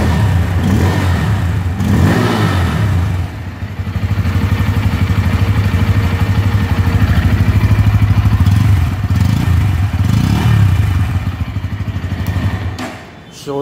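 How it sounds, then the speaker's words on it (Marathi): A 2024 Bajaj Pulser N160 motorcycle revs indoors in a showroom, with a loud, close engine rising and falling through several throttle blips and no talk. "शोरूमच्या आतमध्ये सध्या गाडी असल्यामुळे तुम्हाला फक्त आवाज ऐकून दिला गाडीचा कसा येतो."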